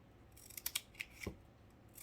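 Scissors snipping paper for a Christmas tiered tray craft, a few quick close sharp cuts and clicks in an uneven rhythm against a quiet background.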